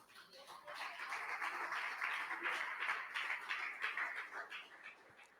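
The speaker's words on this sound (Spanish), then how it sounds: "Bríndele otro aplauso al Señor entonces." Congregation applauding during a church service, a steady wash of many hands clapping at moderate level that holds throughout and fades slightly at the end.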